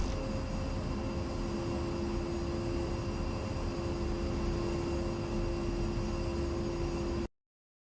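Spitfire engine in the DCS flight simulator game, a constant droning hum with a steady tonal whine, loud and even throughout before cutting off abruptly, no voices.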